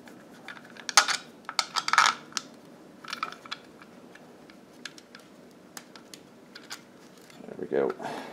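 Sharp metallic clicks and taps from screws being refitted on a torpedo heater, scattered irregular ticks, close and fairly quiet with a brief rattle near the end.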